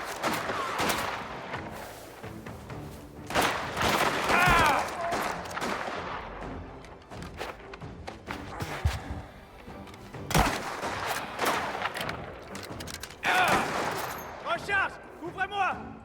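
A shootout in the video game Mafia: The Old Country: scattered sharp gunshots and rapid bursts crack out at varying distances, mixed with shouting voices and other combat noise throughout.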